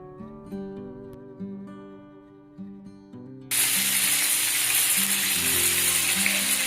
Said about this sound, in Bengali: তাওয়াতে পরিমাণ মতন সাদা তেল দিয়ে এপিট ওপিট করে ধিমে আছে ফ্রাই করে নিলেই রেডি আমাদের পমফ্রেট তাওয়া ফ্রাই